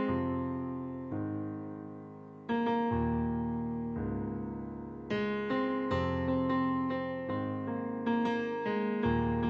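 Solo piano plays the verse chords and melody of a song slowly, with sustained low bass notes under repeated upper notes, each new chord struck clearly and left ringing, close and alone with no voices.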